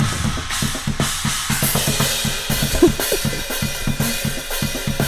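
Drum kit overheads before EQ, carrying a busy, jungle-style groove of kick, snare and cymbals hitting in quick succession, loud and close with no talking.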